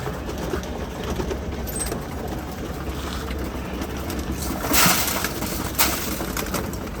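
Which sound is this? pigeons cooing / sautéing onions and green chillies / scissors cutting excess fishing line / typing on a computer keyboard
pigeons cooing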